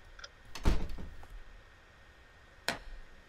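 Hammer blows nailing boards over a window and door in a video game: two separate wooden thuds, the first loud and ringing briefly, the second a sharper knock a couple of seconds later.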